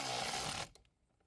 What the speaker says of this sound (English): This hold down is a 10mm, so we're using a 10mm socket to drive it in.